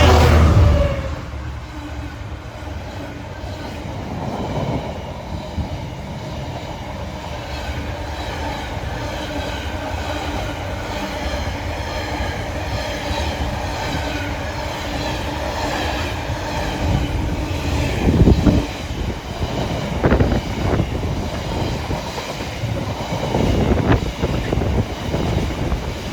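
A Class 66 diesel hauls a Freightliner freight train from Trafford Park to London Gateway past Heald Green, with a steady loud rumble of wagons and wheels, rhythmic clatter over rail joints and some wind buffeting on the microphone.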